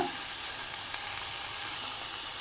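Fenugreek leaf sambar sizzling in the pan as it cooks, a steady bright hiss that holds evenly throughout with a faint tick or two.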